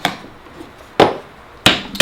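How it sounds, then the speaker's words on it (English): Sharp hammer blows tacking a wooden picture frame together during DIY framing: three distinct, loud strikes spaced unevenly, the last two close together, with no talking. "where's my hammer? Tack this away."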